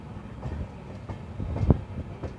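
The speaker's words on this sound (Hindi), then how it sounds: "और हमारी ट्रेन सीधे थ्रू जा रही है मैलानी की तरफ।" Kasganj–Aishbagh Express passenger train running straight through a junction near Pilibhit, a steady low rumble of wheels on rails with irregular clunks and one louder thump, close and continuous with no talking.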